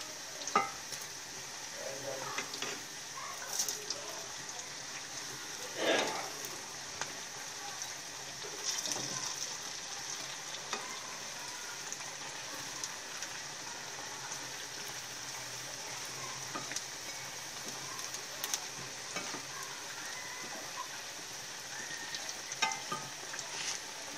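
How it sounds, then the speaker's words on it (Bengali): Cabbage pakoras frying in hot oil, a steady close sizzle and bubbling that runs throughout with occasional stirring clinks and scrapes, no talking. "তো এইভাবে সবগুলো পাকুড়ে আমি ভেজে নিব।"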